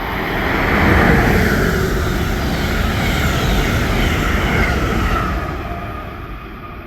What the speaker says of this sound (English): we managed to catch Amtrak 89, the southbound Palmetto service going to Savannah, Georgia, with a solo ACS 64 on the point